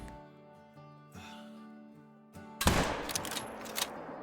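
A rifle fires at a bighorn sheep in a hunting game, one sharp loud blast after a stretch of soft tonal music, its report rolling and echoing for over a second.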